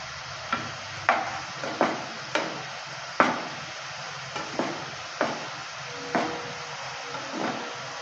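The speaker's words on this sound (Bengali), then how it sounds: "একইভাবে উল্টে পাল্টে ভেজে নেব লো মিডিয়াম আছে" Soft sizzling on low-medium heat as ripe-mango nimki fry in a pan, with repeated scraping stirs and turning clatters at irregular intervals, close by.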